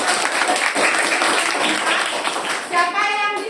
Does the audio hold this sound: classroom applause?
yes